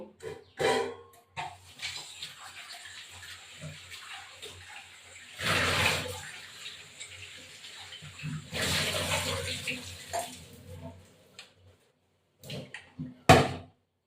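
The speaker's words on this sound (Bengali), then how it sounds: "এবার এই পলি মাছটাকে ধুয়ে এই যে ধুয়ে নেব" Fish being rinsed in a kitchen, with bursts of running tap water splashing and sloshing, close and moderate, separated by quieter handling noises and clunks.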